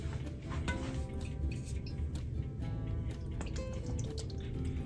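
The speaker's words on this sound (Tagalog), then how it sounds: "At dahil walang hipon sa katinapa, lagyan po tayo ng patis." Fish sauce (patis) poured into a simmering mung bean stew with smoked fish gives a soft, continuous liquid drip and trickle over a low, steady background rumble, with no talking.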